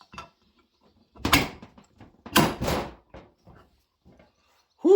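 A Husqvarna 371 chainsaw crankshaft slides into its crankcase in a few short metallic shunks and scrapes, two louder bursts amid quieter clicks, close by in a quiet workshop.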